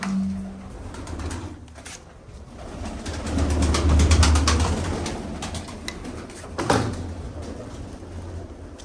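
Pigeons coo softly in low, throaty murmurs amid shuffling and rustling nearby, with a brief clatter partway through.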